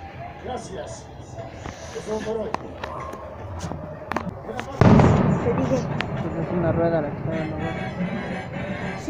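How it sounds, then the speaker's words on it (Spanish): Fireworks rockets popping and crackling at a castle-burning festival in San Miguel Ameyalco, with scattered sharp bursts and a louder blast midway, heard under crowd noise and people talking nearby. "Está yendo por los cohetes."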